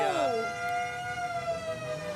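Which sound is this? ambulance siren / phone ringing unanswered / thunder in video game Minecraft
ambulance siren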